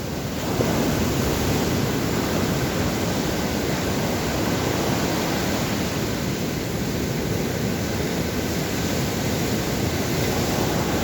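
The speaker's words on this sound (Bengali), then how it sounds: "সমুদ্র কি উত্তাল" Rough sea surf breaking at Ao Nang beach in light drizzling rain, a continuous, loud, broadband roar of waves with wind rushing across the microphone, steady for the whole stretch with no voices.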